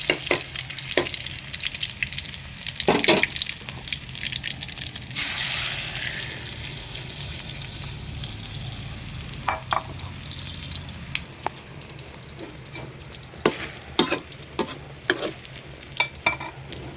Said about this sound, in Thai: ทอดไข่เจียวต่อเด้อพี่น้องเด้อ